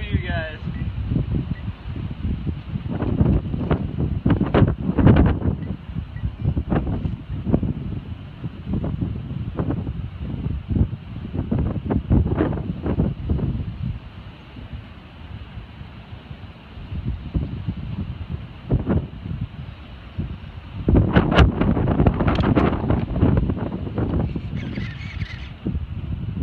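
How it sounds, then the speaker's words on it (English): Gusts of wind buffet the microphone outdoors in bursts before starting a Losi 5T RC car, with loud low thumping rumbles that rise and fade repeatedly, easing midway before picking up strongly again. "Kind of windy out here"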